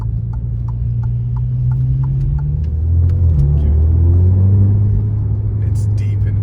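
An Alfa Romeo Giulia fitted with a Monza exhaust idles with a deep, throaty rumble, then swells into a revving surge before settling, heard close and loud while people talk over it.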